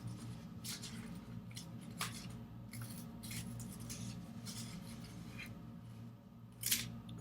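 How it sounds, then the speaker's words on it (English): Scissors snipping out a paper rectangle for a sun catcher craft, a series of soft close cuts and crisp paper rustles with one sharper snip near the end, no talking. "first I'm gonna cut this shape out and then fold. So I'm gonna cut out the rectangle."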